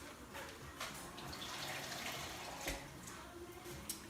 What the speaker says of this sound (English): I'm gonna put just a little bit more water in here in the greens.